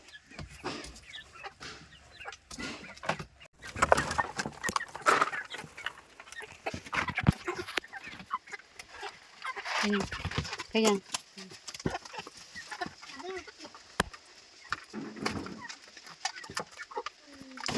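Hens clucking and squawking in a busy yard, with people talking over the birds and some scattered knocks and rustles nearby.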